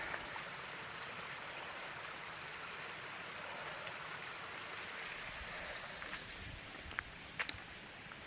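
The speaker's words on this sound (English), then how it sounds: "Water is running well though." Steady running water of a stream beside a trail near Watauga Lake and Iron Mountain, a continuous broadband wash with a few faint clicks and taps toward the end.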